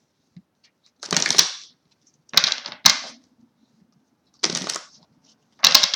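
Tarot cards shuffled and drawn by hand, heard as about five short papery riffling bursts separated by brief silences, close and fairly loud with no talking.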